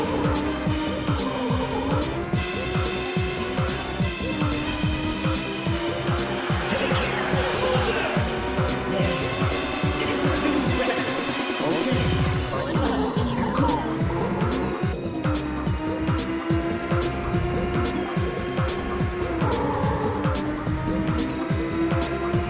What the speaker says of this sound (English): these cars are faster than Oz Solo or Mappy